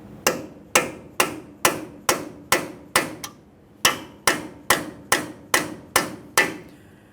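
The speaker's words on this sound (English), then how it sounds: "We'll go ahead and lightly tap on this, separating it from the wheel bearing located behind it." A hammer taps a punch against the front axle shaft of a 2015-2020 Ford F-150 to free it from the wheel bearing behind it. About a dozen sharp, evenly spaced metallic blows ring out close by, with one brief pause partway through.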